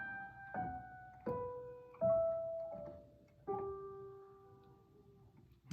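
Piano playing two measures of a beginner piece, single notes struck one at a time in a slow, uneven rhythm, each ringing and decaying before the next, close and fairly soft with no talk.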